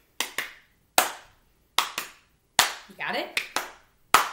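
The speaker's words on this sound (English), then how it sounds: "the first motion of the song is just a clap like this" Single pairs and lone hand claps in a music class, sharp and close, spaced irregularly with short pauses, and a brief spoken question in the middle.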